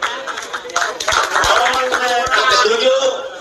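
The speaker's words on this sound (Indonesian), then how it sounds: "Tepuk tangan dulu." An audience at a religious talk applauds with dense, sustained clapping. Sharp individual claps stand out in the mix, and voices chatter and call out in the background.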